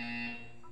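A buzzer from the Portal 2 video game gives one steady, loud electronic tone with strong harmonics. It holds for under a second, and its pitch wavers slightly near the end.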